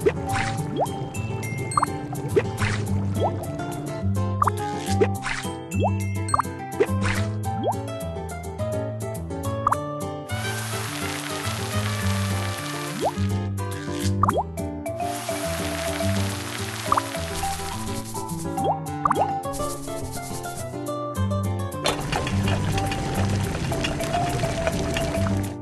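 Cartoonish dripping and plopping effects sound while fish soup is made in a Baby Panda children's game, layered over bright, repetitive game music throughout.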